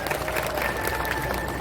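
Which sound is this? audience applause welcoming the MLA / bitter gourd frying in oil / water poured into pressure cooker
audience applause welcoming the MLA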